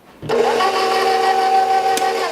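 An electric stand mixer's paddle beats frosting with powdered sugar, a steady loud motor whir that starts abruptly and holds for about two seconds.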